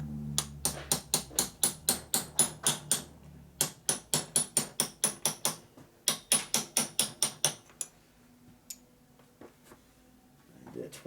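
A hammer strikes a chisel to knock out a lock tab inside a 1977-79 four-speed Harley shovelhead FLH transmission, giving sharp metallic blows in quick, even runs with brief pauses, then a few scattered lighter taps.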